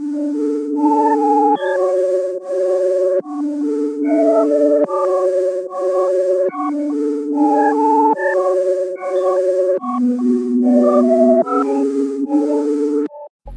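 A layered synth melody processed with Gross Beat's half-time preset plays slow, stretched-out notes in a steady pattern, sustained and bright, loud and continuous with no voices.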